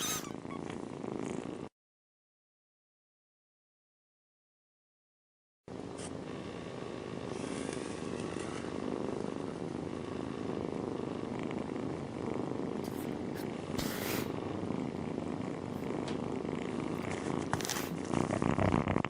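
Close, soft purring from small cats, a steady low rumble that runs under hiss. It breaks off into silence near the start, then resumes and continues to the end.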